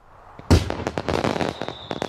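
Gunpowder fireworks go off, starting with one sharp loud bang and followed by a rapid, irregular string of crackling pops and bursts, fairly close by.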